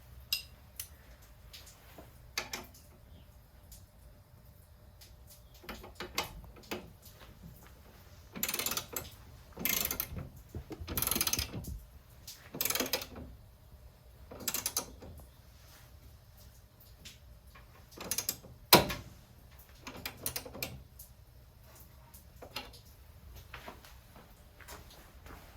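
Tools work on a BMW 335i strut tower brace, with a series of scattered ratcheting clicks and metallic clacks in short bursts, fairly quiet and close over a low background hum.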